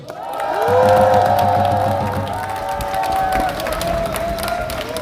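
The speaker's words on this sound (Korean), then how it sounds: "박수 한번 보내주십시오" A crowd at a large Korean political rally breaks into applause and cheering, with a swell of shouting and whoops over steady clapping that rises quickly, peaks early, then settles into a continuing roar.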